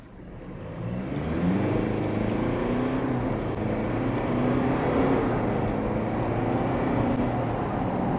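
Inside a GWM Cannon Alpha Lux ute with a 2.4L diesel in sport mode, the engine builds from a low hum into a steady, moderate acceleration drone, no voices.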